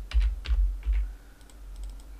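A few computer keyboard key presses and mouse clicks at a desk, several close separate taps in the first second followed by fainter light clicks.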